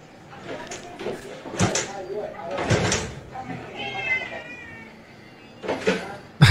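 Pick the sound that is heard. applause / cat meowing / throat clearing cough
cat meowing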